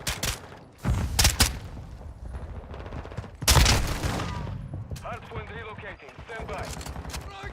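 Rapid shotgun blasts and heavy gunfire in Call of Duty: Modern Warfare III multiplayer, loud bursts at the start and again midway, followed by softer game effects and announcer-style voice lines.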